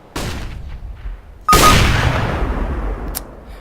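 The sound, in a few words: gunshot in a video game, AWP rifle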